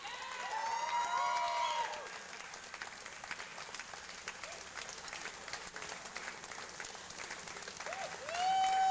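An outdoor crowd in the rain at a concert in Rideau Park, Ottawa applauds and cheers continuously, with whistles rising above the clapping at the start and end.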